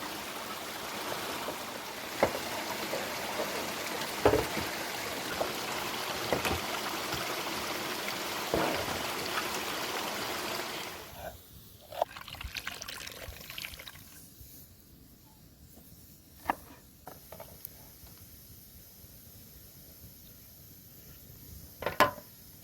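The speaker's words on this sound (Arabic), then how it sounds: "نضيف مي سماق." Warm water with soaked sumac is poured into a pot of Assyrian sour rice, a steady splashing stream for about eleven seconds, then quieter scattered drips and small clinks.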